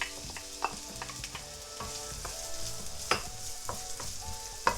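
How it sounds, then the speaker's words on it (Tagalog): Onion sautéing in a little leftover tuna oil, a close, crackling sizzle punctuated by frequent clinks and scrapes of a spatula against the pan. "nagtira ko ng konti para dito natin igigisa yung ating onion"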